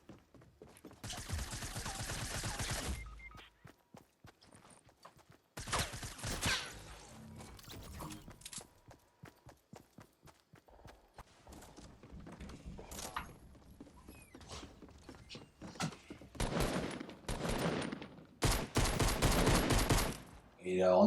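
Gunfire in the video game Fortnite, a series of rapid bursts of shots coming in separate clusters, loud and close, with quieter stretches of game noise in between.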